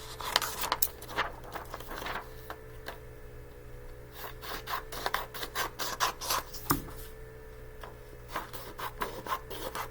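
Paper page being trimmed for a math notebook, a series of short scraping and cutting strokes, close and fairly quiet, over a faint steady background hum.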